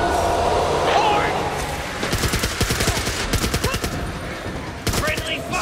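Gunfire in the Back 4 Blood PS5 beta with friendly fire: loud, rapid bursts of automatic shots crackle for about three seconds, pause briefly, then return with a final sharp volley over ongoing game noise.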